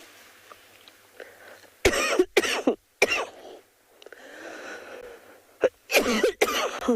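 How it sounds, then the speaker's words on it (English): Several sharp, loud coughs from a person outdoors on a cold evening safari, coming in close bursts of two or three with quiet gaps and faint background rustle between them. "It is getting so cold and my cough seems to want to come back today."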